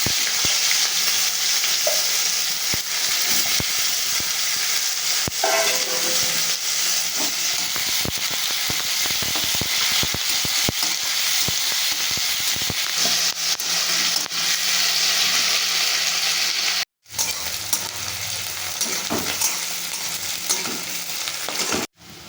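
Loud, continuous hissing sizzle of cumin and chopped onion frying in oil, with frequent quick scraping and stirring clatter, close up, briefly cutting out near the end.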